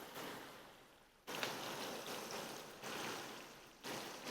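Water pours into a karahi holding yogurt and tomato for a Balochi tikka dish, arriving as several splashy, hissing gushes in bursts of a second or two.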